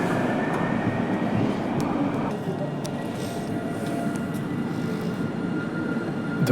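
A Montpellier line 3 tram pulls into Gambetta Chaptal station with a steady, loud rolling rumble that holds throughout, and faint voices underneath.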